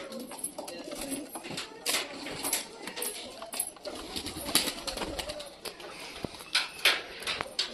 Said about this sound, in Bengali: সব কটা পায়রা যেহেতু এনজয় করছে, খুব সুন্দর এদিক ওদিক ঘুরে টুরে বেড়াচ্ছে